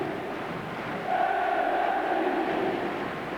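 A football crowd at Anfield rises into a sustained roar during a Liverpool v Slovan Liberec UEFA Cup match, a broad, steady swell of massed voices heard from a distance that lasts a few seconds.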